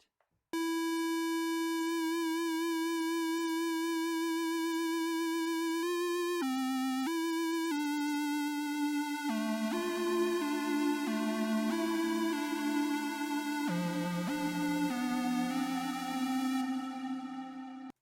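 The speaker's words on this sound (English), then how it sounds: "let's listen to our vibrato as we adjust the depth and the rate" A Native Instruments Massive synth tone with vibrato: a pure, steady sustained note that gains wobbling pitch modulation as the depth and rate are turned up, with the pitch stepping between held notes. It is clean and continuous, with no voices.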